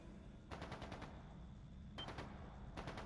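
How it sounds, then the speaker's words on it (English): Distant gunfire in the video game Trails into Reverie: two faint bursts of rapid shots, each lasting about half a second, over a steady low rumble. No voices. "It's gunfire."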